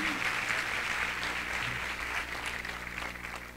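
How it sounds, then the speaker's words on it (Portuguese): An audience at the opening ceremony of an international congress applauds, a dense, even patter of many hands holding steady throughout, moderately loud, with a low hum underneath. "Uma salva de palmas para o Célio, que é da FENORTE."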